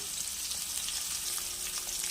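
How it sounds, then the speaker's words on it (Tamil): Close, steady sizzling of salted onions frying in hot oil for radish rice, with a dense crackle and no voices. "வெங்காயத்தை நல்லா வதக்கிக்கோங்க"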